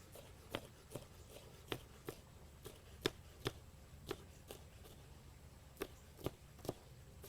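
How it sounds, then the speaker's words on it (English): Peppers being chopped with a knife on a cutting board during a relish-making cooking demonstration, a series of crisp, fairly quiet taps at an uneven pace, with no voices. "So we're just chopping some peppers."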